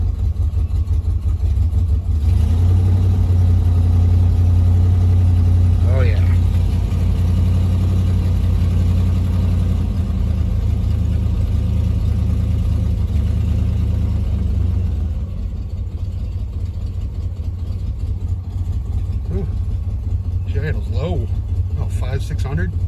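A 1978 Dodge Magnum V8 with true dual exhaust running after a cold start, a loud, steady low rumble idling close by with a slight drop in level partway, under occasional faint background sounds.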